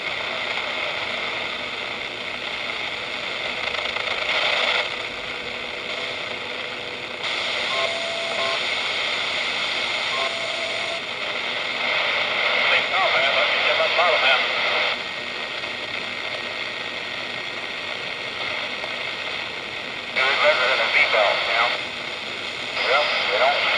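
A radio receiver picking up a broadcast, a steady hissy signal carrying a faint, muffled transmission that swells and fades in patches over a constant noise bed; continuous and fairly loud.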